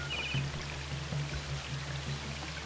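A waterfall in the Planet Zoo game splashes and pours with a soft, continuous, steady rush, quiet and unchanging, with no voices over it.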